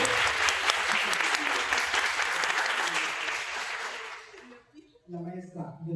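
An audience at a panel discussion on the social perception of autism applauds a psychology student, producing a dense, steady wash of clapping that fades out near the end as a voice begins speaking.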